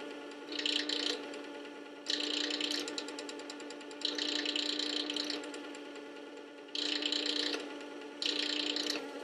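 A knife blade is drawn in and out of a sharpener in five separate strokes, each a rasping, ratcheting scrape. Close and clear, with short pauses between strokes.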